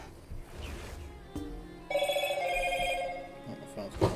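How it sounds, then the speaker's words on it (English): A phone ringtone trills in a steady, repeating electronic pattern for a couple of seconds, loud and close, over low background sound. "Oh, my phone's gone."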